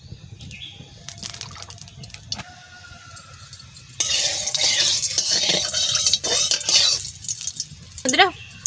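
Cooking oil poured into a hot pan while preparing a fish curry with koi and shingi fish and home-grown greens, giving a loud, rushing sizzle and hiss that swells midway and continues under faint background voices.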